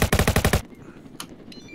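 A rapid burst of automatic gunfire in Roblox rattles off about half a dozen loud, evenly spaced shots, then gives way to quieter scattered impacts and faint game noise.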